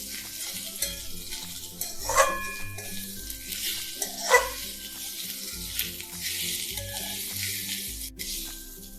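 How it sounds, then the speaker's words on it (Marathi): Onion and grated coconut roast together in a hot pan for Maharashtrian misal, giving a steady soft sizzle with occasional stirring scrapes and a couple of sharper clinks from a utensil against the pan. "आपल्याला हे खोबरं सुद्धा याच्या सोबतच भाजून घ्यायचं आहे"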